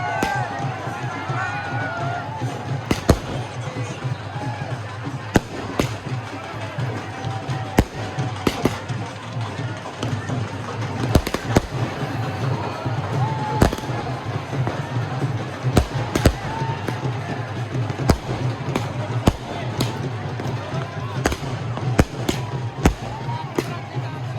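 Firecrackers and fireworks burst repeatedly during an outdoor New Year celebration, sharp cracks scattered irregularly over a steady hum of crowd noise and voices.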